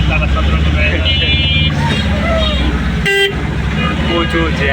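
Congested road traffic on Uttara Khalpar road, jammed vehicles with engines rumbling and a horn tooting briefly, loud and close, with people talking over the din.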